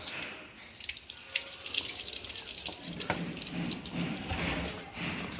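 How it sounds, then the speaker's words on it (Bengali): Water runs from a turned-on tap, a close, steady splashing flow with small drips and splatters over about five seconds, with no one talking. "রোজই ধরে না কল ঘুরিয়েছিস"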